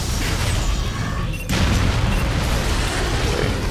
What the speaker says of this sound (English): Now the Darkwalker is shooting the node.